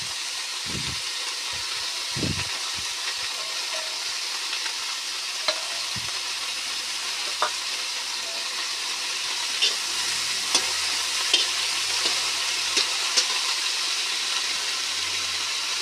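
Neem leaves frying in oil in a pan, a steady soft sizzle with occasional stirring clicks and scrapes, heard alone without talk.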